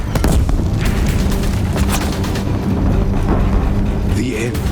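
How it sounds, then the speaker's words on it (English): Deathbringer machines firing in Horizon Zero Dawn, heavy booming blasts near a bridge, loud rumbling impacts layered with battle noise and a few sharp bursts. "If the Deathbringers keep firing, this bridge will go"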